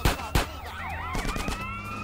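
An ambulance siren wails in GTA: San Andreas, with rising and falling sweeping tones after two loud thumps, mixed with game engine and street noise.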